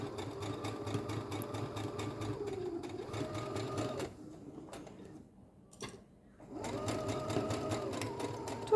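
A sewing machine stitching around a garment neckline, running in steady whirring bursts with a short pause mid-way before it starts stitching again, close and fairly quiet.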